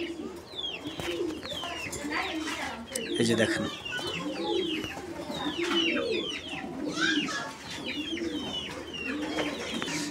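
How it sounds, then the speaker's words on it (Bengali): Black Lahori pigeons coo repeatedly in soft, rolling calls close by, with someone speaking briefly over them. "আর এইটা হচ্ছে লাহোরি কবুতরের একটা জোড়া, কালো লাহোরি"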